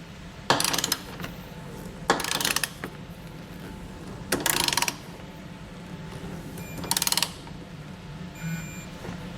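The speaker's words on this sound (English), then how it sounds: "We can then go back and torque all of our hardware to the specifications outlined in our instructions." Torque wrench tightening trailer hitch receiver bolts on a 2020 Subaru Ascent, four separate bursts of rapid ratcheting clicks with quiet pauses between them, close and loud.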